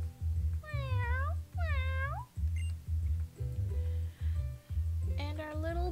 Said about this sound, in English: And our sweet little kitty cat, Litten.